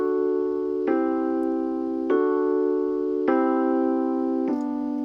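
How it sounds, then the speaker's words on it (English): A sustained, bright instrument tone is pushed through an exciter set around 2100 hertz, adding a glassy, distorted edge as four held notes change at a steady, unhurried pace. "So here I'm using the exciter at about 2100 hertz"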